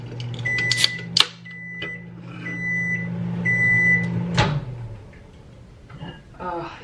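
A microwave reheating leftover pasta hums steadily with a low drone, punctuated by several short beeps of the keypad, then clicks off and the hum winds down; a person talks briefly near the end.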